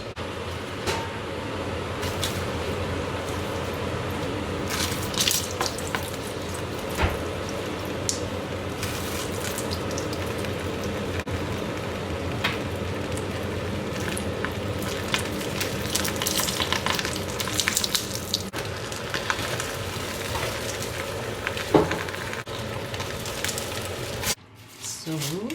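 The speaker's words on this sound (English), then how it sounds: "Now we're going to fry this." Paper-wrapped chicken parcels fry in hot oil with a steady, dense sizzle and crackle that runs nearly unbroken for about 24 seconds, then drops away abruptly near the end.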